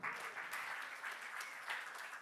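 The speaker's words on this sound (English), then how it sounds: "Clap for KQ." Short, steady applause from a convention audience, dense overlapping claps with slight swells, filling about two seconds.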